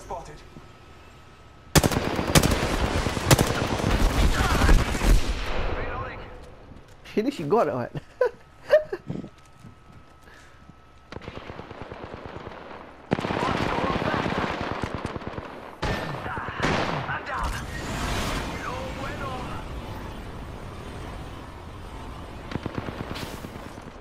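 Automatic gunfire from the Apex Legends video game comes in loud, rapid bursts separated by pauses, with players talking and laughing over the shots.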